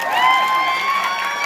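Audience at a stage play applauding and cheering, a loud sustained crowd roar with shouts and whoops over clapping, continuous and near.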